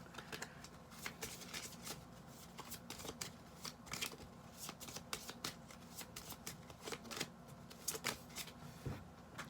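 Tarot cards being shuffled quickly by hand, a faint run of rapid papery riffles and soft slaps in an irregular rhythm, heard up close with no talking.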